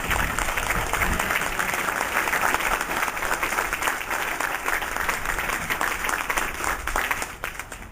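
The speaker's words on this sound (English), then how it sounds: "We'll give them all a big round of applause." Steady audience applause at the grand opening of a supportive living community for senior citizens, a full, even wash of many hands clapping that carries throughout and eases slightly near the end.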